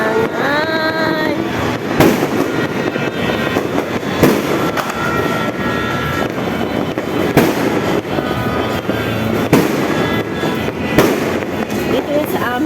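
New Year's fireworks pop and bang at irregular intervals over a constant rumbling background, with a voice speaking briefly near the start.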